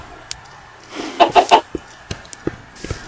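Chickens cluck in the video game Minecraft, a quick cluster of three louder clucks followed by scattered short, fainter clucks and clicks against a quiet game background.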